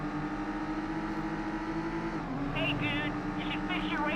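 A car called the Emu, loosely based on a Volkswagen Passat, drives in the PS2 game Midnight Club II, its engine humming steadily and shifting pitch midway, while a voice talks over the top in the second half.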